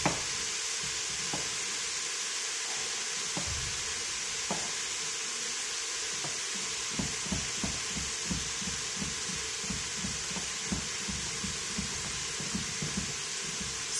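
Vegetables sauté in a pan for a whole-food plant-based spaghetti sauce, giving a steady sizzling hiss with soft irregular thumps and clicks throughout and no talking.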